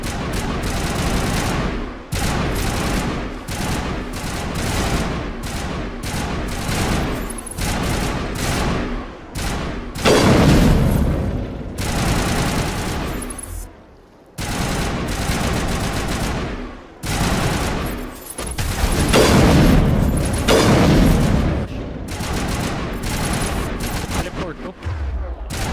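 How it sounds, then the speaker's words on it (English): Sustained gunfire crossfire in the video game Mass Effect, rapid automatic bursts overlapping in dense volleys with brief pauses between, loud and close, continuing almost without a break for the whole stretch. "Battleby is under coordinated crossfire."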